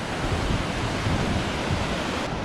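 Rough ocean surf breaks at Myrtle Beach on an August day, a steady loud wash of churning water and wind roaring without pause, with no voices.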